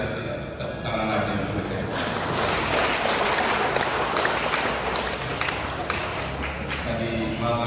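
Guests at a Catholic wedding mass in Borong break into applause. A broad wash of clapping swells after a couple of seconds and holds steady, while a voice talks over it.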